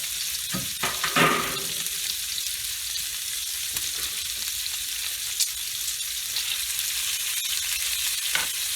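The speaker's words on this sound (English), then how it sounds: "it doesn't take a long time for pork to cook" Pork sizzles on a grill with a steady, close, bright crackle and hiss, with a few louder spits and pops near the start.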